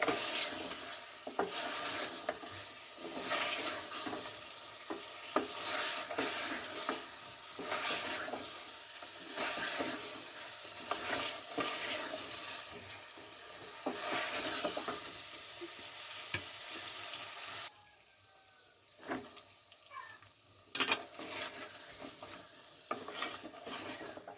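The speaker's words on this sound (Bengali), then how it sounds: "মশলা দিয়ে আবার এক দুবার নেড়ে নিচ্ছি" Country chicken meat with meat spices being stirred in a frying pan, repeated scraping strokes over constant sizzling, close and fairly loud, with a few brief pauses and no talking.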